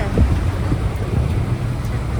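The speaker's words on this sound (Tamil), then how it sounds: "காத்து சத்தம்" Steady, loud wind buffeting a microphone, a rough low rumble that continues without a break for the whole stretch, with no voices.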